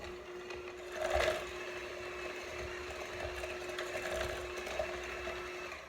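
An electric mixer running on low speed creams butter and sugar for cookie dough, giving a steady, even motor hum with slight swells and no voices.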